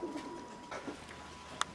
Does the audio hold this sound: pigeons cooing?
yes